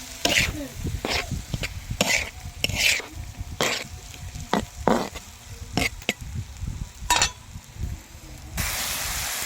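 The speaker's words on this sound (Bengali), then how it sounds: "এগুলো আমি আস্তে আস্তে জাল দেবো আর আস্তে আস্তে ভেজে নেবো।" Fish frying in oil in a pan over medium heat, sizzling steadily while a utensil stirs and scrapes it in repeated bursts, with a brief cough near the middle.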